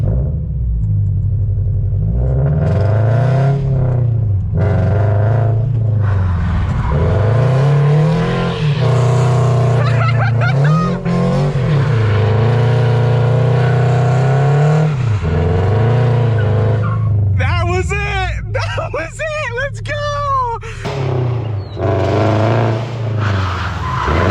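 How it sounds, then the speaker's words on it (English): A Toyota GR86 with traction control fully off, its loud engine revving steadily through sustained drifting, with repeated tire squeals and skids rising near the end, close and continuous throughout. "My problem is my car is so loud, bro."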